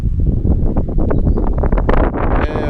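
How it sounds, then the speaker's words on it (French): Gusty outdoor wind buffeting a microphone, a loud roaring rumble with irregular thumps and swells, close and constant for the whole stretch. "Je m'excuse toujours pour le vent"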